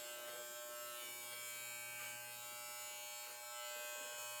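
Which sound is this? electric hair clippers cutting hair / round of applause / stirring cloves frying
electric hair clippers cutting hair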